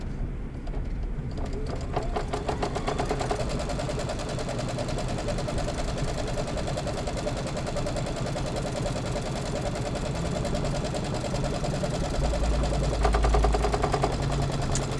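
Embroidery sewing machine stitching through quilt batting, a continuous mechanical whirring and rhythmic needle clatter with a low motor hum, steady and fairly loud throughout.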